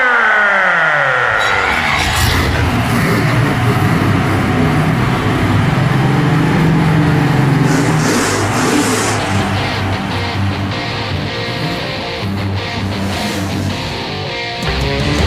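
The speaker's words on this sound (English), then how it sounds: "Gentlemen, start your engines!" Race car engines start and rev loudly together, a dense, steady roar with rising whines at the start, continuous for about fifteen seconds with no talk.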